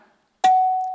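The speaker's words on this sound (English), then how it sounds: "you will get a chime of the bell at 1:45 in" A single bell chime at a gubernatorial candidates' debate strikes sharply after a moment of quiet, ringing out as a clear sustained tone that slowly fades.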